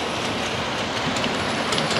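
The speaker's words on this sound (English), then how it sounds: "There's a test train going down through the cutting there." A model test train runs along layout track through a cutting, giving a continuous, fairly loud rumbling clatter with no talk over it.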